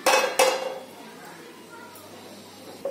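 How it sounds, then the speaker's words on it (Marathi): A second kadhai set down on a home kitchen gas stove while making sugar-free mango semolina sheera, two sharp metallic clanks close by in quick succession, then a quiet room with a faint clink near the end. "आता मी दुसरी कढई ठेवते।"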